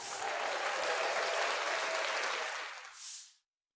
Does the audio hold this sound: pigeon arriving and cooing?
no